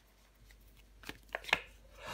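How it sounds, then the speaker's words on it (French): Tarot cards are handled and set down on a table in a few soft, separate slaps and shuffles, close and fairly quiet against a near-silent background. "Je vais recouvrir des cartes."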